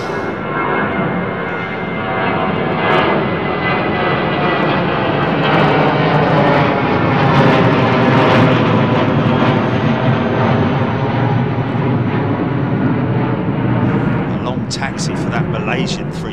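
A jet airliner departs London Heathrow runway 09R, its engines producing a loud sustained roar that swells and holds, heard from nearby with a brief higher whine near the end.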